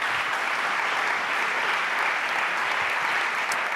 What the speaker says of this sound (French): que l'on peut applaudir également